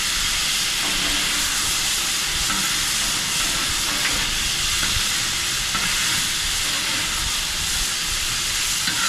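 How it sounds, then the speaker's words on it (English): Chicken wings in buffalo sauce with avocado oil sizzle steadily on a hot cooking surface, a loud, constant close-up hiss and crackle without pause. "hear that sizzle."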